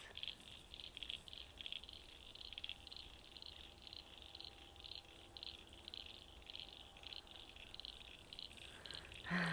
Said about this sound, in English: Can you hear the frogs?